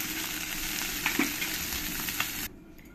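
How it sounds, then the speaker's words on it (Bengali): Small puti fish fry in hot oil in a home kitchen pan, giving a steady close crackling sizzle with a few light clinks of a utensil, before the sound cuts off abruptly near the end. "আমি পরের পুঁটি মাছগুলো একই রকম করে ভেজে নিয়েছি"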